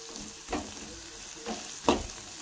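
Ingredients for rava upma frying in a pan make a soft, low sizzle, broken by three spoon scrapes and stirs that get louder toward the end.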